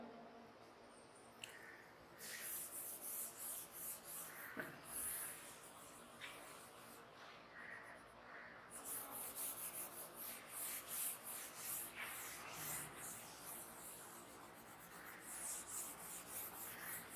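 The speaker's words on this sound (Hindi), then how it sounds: "ये मैं रब कर देता हूं।" Board eraser rubbing across a classroom board to wipe out written maths, a steady broadband scrubbing that runs almost continuously in long strokes, close and moderately loud, with only brief pauses.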